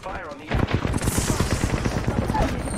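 Rapid automatic gunfire from weapons in the video game Apex Legends, dense repeated bursts close and loud, continuing steadily after a brief quieter opening.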